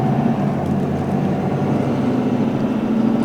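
A truck engine laboring under heavy load while driving through forest, a steady low rumble and drone filling the whole stretch, close and continuous with no voices.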